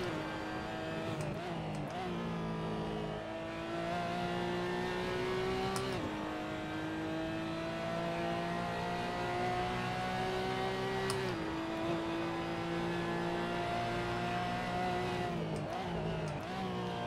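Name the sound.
Porsche GT4 Clubsport engine in a racing video game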